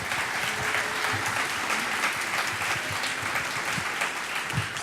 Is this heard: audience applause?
yes